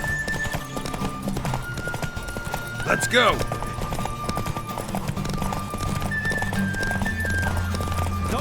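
Hooves of a horse clip-clop at a fast gallop in The Witcher 3: Wild Hunt, a steady rapid beat running throughout, with a brief whinny midway and a voice speaking over it.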